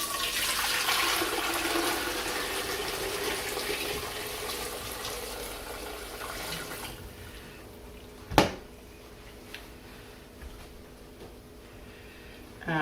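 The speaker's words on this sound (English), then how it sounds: "I'll grab the pads now and pour it right into the waiting" Homemade turkey broth poured into a strainer, a steady rush of splashing liquid that tapers off after about seven seconds, followed by a sharp knock and quieter trickles.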